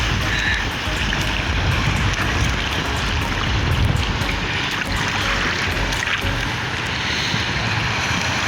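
Sea waves washing around a small fishing boat on the open water, a constant loud rush and slosh mixed with gusty wind buffeting the microphone.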